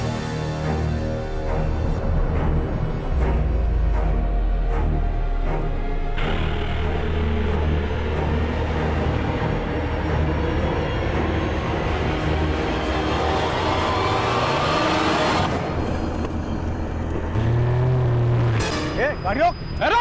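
A car drives at a steady rumble, with a low engine drone, road noise and a rising pass-by sweep partway through, all under tense background music.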